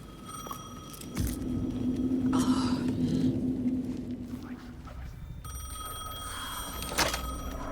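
A telephone rings in the video game Alan Wake 2, with a couple of bright tonal bursts over a low rumbling ambience and faint background noise, fairly quiet and spread across several seconds.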